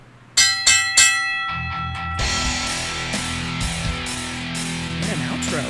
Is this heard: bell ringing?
yes